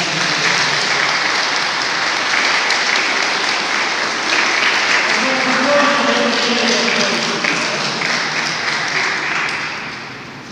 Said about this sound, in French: Je pense qu'il y a des applaudissements de votre part.